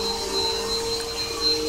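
A vacuum cleaner runs continuously with a steady, loud motor whine and airflow roar, alone with no voices.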